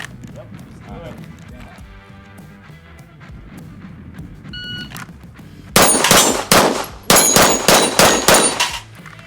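Gunshots ring off a steel plate rack at an outdoor shooting range: about eight sharp, loud cracks, each followed by a bright metallic clang, fired in a quick irregular string after a quieter stretch of people talking.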